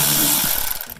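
A power driver buzzes briefly, backing out a T25 screw on a Volvo XC90 during cabin filter replacement; a short, close, loud whir that tapers off within a second.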